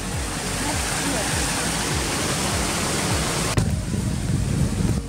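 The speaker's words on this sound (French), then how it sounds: "on est au plus près de la cascade" Ouzoud waterfall heard from close up, a loud, unbroken roar of crashing water that fills everything, steady throughout with a slight shift near the end.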